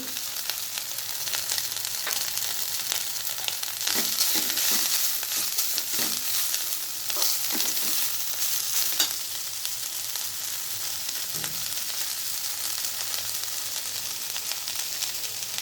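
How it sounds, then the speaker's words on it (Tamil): Coriander, garlic and ginger fry in a pan with a loud, continuous sizzle and crackle, broken by a few scraping stirs and clatters midway. "கொத்தமல்லி வதங்கினோடனே பூண்டு, இஞ்சி எல்லாம் போடுறோம்."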